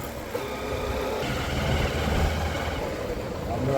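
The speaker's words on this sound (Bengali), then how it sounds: "আর কিছু হোক আর না হোক বাইক জোরে চালাইতে হইব।" A motorbike engine drones steadily while the bike is ridden fast along the road. Its low rumble and wind rush stay constant throughout at close range.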